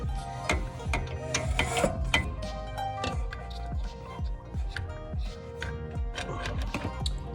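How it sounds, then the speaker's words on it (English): A ratchet tightens the rear brake caliper bolts on a BMW F30 335i, with quick, steady runs of close metallic clicks and short pauses between strokes, and no talking. "Once you get the caliper bolts in, you want to torque them to about 22 foot-pounds."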